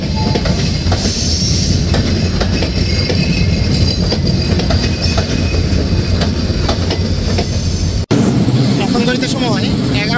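Titumir Express train running toward Phulbari station in Bangladesh, a loud continuous rumble with clickety-clack wheel beats and faint squeal, heard from on board.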